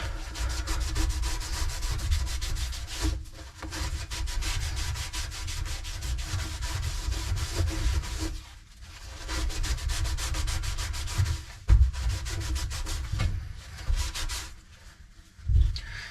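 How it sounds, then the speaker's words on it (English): Flow sensors on an LG washing machine are cleaned by hand rubbing, a close, steady scrubbing rasp in long strokes with a few short pauses and bumps, no voices. "And just clean your sensors."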